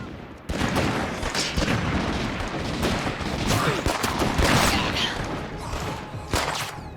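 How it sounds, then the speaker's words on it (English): Rapid bursts of pyro launcher fire and fiery explosions ring out during State of Decay 2 gameplay, a dense, continuous barrage of booms and cracks with no pauses. "The pyro launcher's able to make these nice little like on-demand areas of fire, and I mean like I shoot like 2 or 3 shots to do that."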